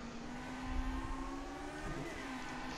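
1968-era Formula 1 race cars in a racing video game at the Zandvoort circuit, engines droning with a sustained high buzzing note that shifts slightly in pitch, fairly quiet and steady, no talking.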